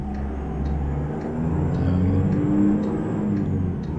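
A Mack truck engine in American Truck Simulator drones and revs with a deep, steady rumble that rises slightly in pitch as it pulls, loud and continuous.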